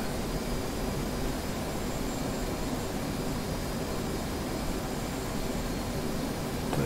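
Jet afterburners in the DCS flight simulator game roar as a steady, dense, broadband rush that holds without a break throughout, with no talk over it.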